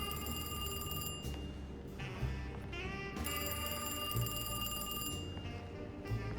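A telephone rings in the video game Alone in the Dark, a bright electronic bell trilling in repeated bursts with short gaps, steady and clear over a low ambient hum, with no talk.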